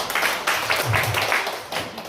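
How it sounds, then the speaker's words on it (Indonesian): A church audience applauds for Leo with steady, moderately loud clapping from many hands, a dense patter that carries on throughout. "kasih tepuk tangan buat Leo"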